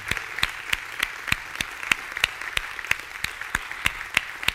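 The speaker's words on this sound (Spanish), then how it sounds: "que los honremos con un buen aplauso de gratitud a Dios" A church congregation gives a round of applause honouring mothers, the steady claps crisp and evenly spaced, fairly near and carrying on alone with no voices over them.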